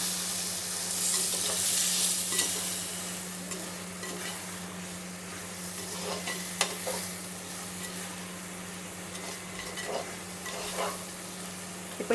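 Cooked cowpeas are stirred into a sizzling kara kulambu base. A steady, close frying hiss runs alongside soft scraping stirs and a few light utensil taps, over a low hum, with no talking.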